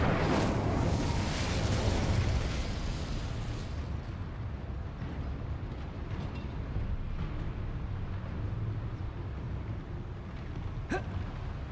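A fire spell cast in the Hogwarts Legacy video game gives a loud, broad roaring burst that fades into a steady rushing rumble, with a brief sharp crackle near the end.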